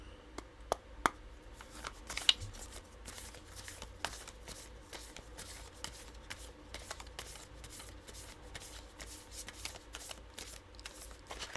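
A deck of tarot cards is shuffled repeatedly by hand at close range, giving quiet rapid riffling bursts with sharp card snaps between them.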